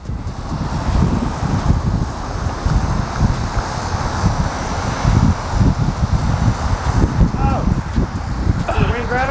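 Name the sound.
wind blowing outdoors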